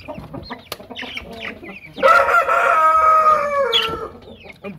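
Light Columbian Brahma chickens, an imported large breed, make short close clucks, then a loud drawn-out crow for about two seconds before the calls trail off into more scattered clucking.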